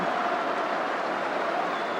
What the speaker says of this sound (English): Lineker getting a great round of applause by the Tottenham fans.